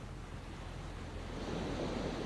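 Surf washes steadily onto Hegari beach, a continuous rushing wash of waves mixed with wind noise, swelling slightly louder toward the end with no voices.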